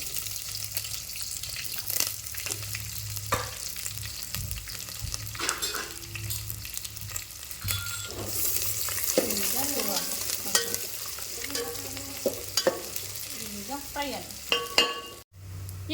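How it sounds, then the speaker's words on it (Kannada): Thick-cut potatoes and onions fry in a pan, a steady close sizzle broken by scraping stirs and a few clinks of the spoon. "ಈಗ ನೋಡ್ರಿ ಆಲೂಗಡ್ಡಿ ಉಳ್ಳಾಗಡ್ಡಿ ಎರಡೂ ಅಂತೂ ಮಸ್ತ್ ನೆಕ್ ಫ್ರೈ ಅವ್ರಿಗೆ"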